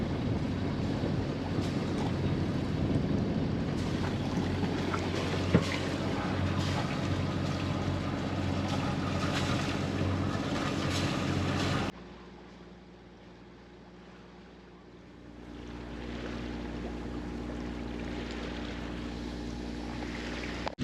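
A sailboat motors along near Lipari under engine power, a steady low drone with wind noise, which drops away for a few seconds before the engine hum returns.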